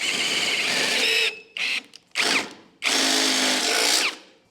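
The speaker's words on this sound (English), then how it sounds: "I'm going to drill out some holes" A power drill whines in several bursts, long runs and short stop-start pulses, close and loud with brief silences between, drilling holes in a 4WD ute's pillar for rivet nuts.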